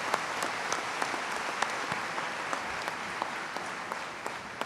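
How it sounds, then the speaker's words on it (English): An audience at a college commencement ceremony applauds a foundation board chair, steady broad clapping with a few sharper individual claps standing out, no voices. "Please join me in a round of applause."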